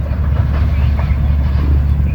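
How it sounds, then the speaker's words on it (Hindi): Pakistan Railways train carriages rolling through fog: a heavy, continuous low rumble of wheels on track with faint rattling, loud and close throughout. "ये बेहुदा था जो बोगी आखिर में लगी उसकी आवाज़ सारी ट्रेन से अलग ही आ रही है।"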